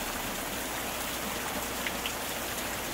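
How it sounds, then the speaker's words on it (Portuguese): Steady, dense rain falls on a surface with an even patter throughout, loud and close, with no voices. "O som da chuva é como um cobertor de tranquilidade que me envolve"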